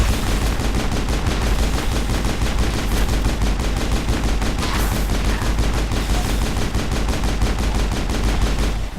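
Rapid pistol gunfire from the science-fiction video game Mass Effect 1, played on Insanity difficulty, rings out as a dense, continuous volley of loud, sharp shots with no speech over it.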